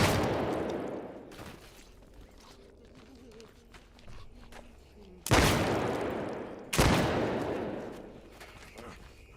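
Gunshots in the zombie game No More Room in Hell 2: one booming shot with a long reverberant tail, quieter rustling and movement, then two more loud shots in quick succession, each echoing away.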